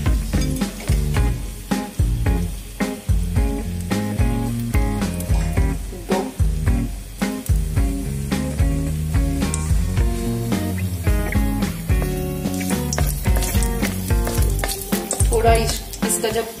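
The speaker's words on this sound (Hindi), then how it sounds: "3 क्लॉव्स ऐड कर रही हूँ और छोटा इलायची 2, ये थोड़ा चीर के ऐड करूंगी।" Whole cloves and lightly split green cardamom, added after a cinnamon stick, sizzle loudly in hot oil for a dense, steady frying crackle, with occasional stirring clinks and no talking.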